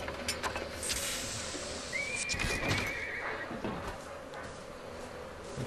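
A mechanical horse in the video game BioShock Infinite lets out a single clear whinny midway through, set against steady game ambience with hoof clip-clop, no talking.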